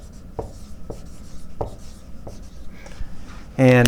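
Pen or marker writing out a chemistry rate equation, a few short scratchy strokes at irregular intervals, ending in a sudden loud burst of voice.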